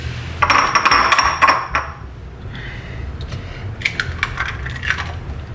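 An egg is tapped against the side of a bowl during preparation of mini Italian ham and cheese potato bakes, giving several sharp clicking knocks up close, then a few lighter clinks, with no speech.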